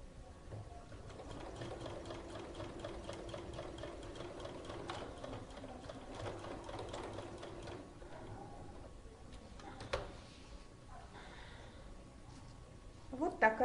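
A sewing machine runs a steady rhythmic stitching patter along a denim pocket seam, quiet and close, then stops near the end before a few faint handling clicks.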